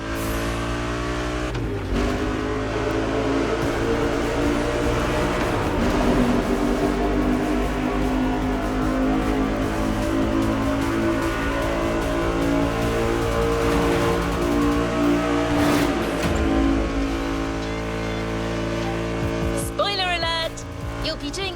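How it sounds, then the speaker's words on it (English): Tuned sports car engines in the racing game The Crew Motorfest, a loud sustained engine roar rising and falling through revs and gear changes, with a narrator talking over it throughout. "revved up speeders pack a pile of torque."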